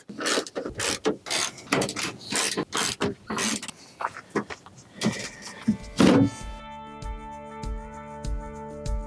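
Bolts on a Toyota Tacoma tailgate are run out with a ratcheting T30 Torx driver, close rapid clicking bursts in quick succession, then a steady whirring mechanical drone with regular ticks, no speech.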